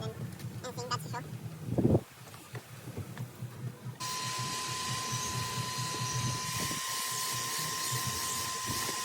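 A vacuum cleaner runs steadily and loudly inside a 32-year-old Ford Falcon, cleaning its dirty interior, its motor whine starting abruptly midway after a stretch of rustling and a spoken voice.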